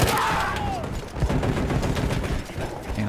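Battlefield 1 machine gun fire around a World War I trench line, rapid loud shots rattling steadily under faint battle chatter and voices.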